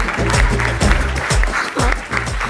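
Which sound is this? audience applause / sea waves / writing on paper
audience applause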